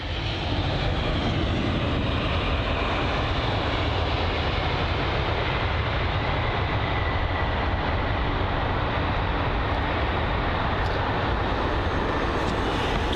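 Broadband roar of a British Airways Boeing 777 airliner at London Heathrow, a steady, continuous jet noise filling the whole clip at fairly close range with no voices.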